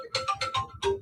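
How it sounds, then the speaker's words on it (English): A mobile phone ringtone goes off at an evening literary reading in Houston, playing a quick melodic pattern of five bright tonal bursts, loud and close, with no talk over it. "Thought my phone was on silent."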